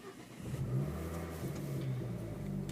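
A 5-cylinder car engine with a D-cat exhaust fires up and settles into a smooth, throaty idle with a slight rev at the start. It sounds quiet and steady, with no talking.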